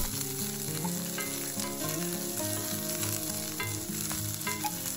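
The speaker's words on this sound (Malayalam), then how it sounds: "ഇനി ഇത് നന്നായിട്ടൊന്ന് വഴറ്റിയെടുക്കുന്നുണ്ട്" Garlic, onion and chillies sauté in a hot pan, giving a continuous bright sizzle and crackle with the occasional stir, close and steady with no talking.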